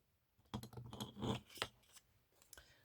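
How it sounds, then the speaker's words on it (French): Scissors snip a small piece of ribbon for a handmade Advent calendar greeting card, a quick cluster of close, quiet crisp cuts and rustles with no talking. "Je découpe un petit bout de ruban."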